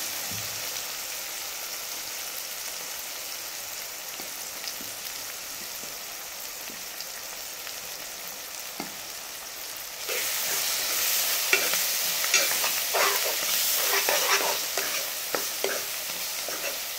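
Onion tomato masala with chili powder and turmeric sizzles in a pan, a soft continuous crackle that becomes louder and more vigorous after a stir midway, with scattered pops, close and without talk.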